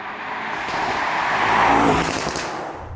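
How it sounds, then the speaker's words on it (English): A Mercedes-AMG GT 55 V8 coupe drives past outside, its engine and exhaust swelling to a broad, loud roar mid-pass and then fading slightly, heard alone without talk. "But it is the real sound of the car."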